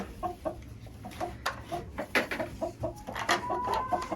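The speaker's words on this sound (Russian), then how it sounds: "Петух полез звать курицу в гнездо, а мне нужно собрать яйца." Hens cluck in short, irregular bursts close by while a rooster calls a hen toward the nest in a straw-bedded coop, with no voices over it.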